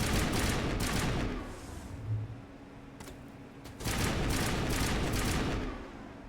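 Bursts of rapid gunfire crackle in a Mass Effect firefight, dense volleys with a brief lull before a second sustained barrage, loud and close with no talk.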